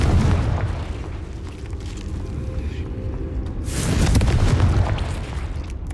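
A Confringo spell explosion in Hogwarts Legacy gives a loud, dense booming blast that rumbles through the whole clip and swells again near the end, with no voices.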